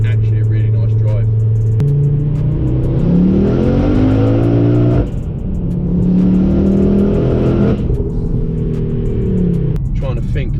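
A 500hp Ford Focus RS Mk2 engine revs loudly from close by, climbing through several rising pulls with gear changes between them, aggressive and dominant throughout, with a voice talking faintly underneath.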